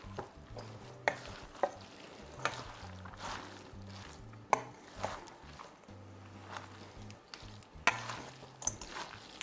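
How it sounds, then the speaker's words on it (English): Tuna pasta with arugula being stirred and tossed in a pan or bowl, with soft scraping and clinking of the utensil recurring in uneven bursts over a low background hum. "Okay, let's just mix this all together."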